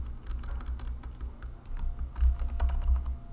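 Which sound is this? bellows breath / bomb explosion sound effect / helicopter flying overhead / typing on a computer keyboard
typing on a computer keyboard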